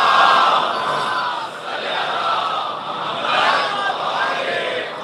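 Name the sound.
audience reciting salawat in unison at a majlis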